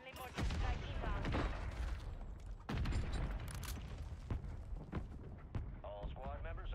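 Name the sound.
mortar strike explosions, from video game Call of Duty Warzone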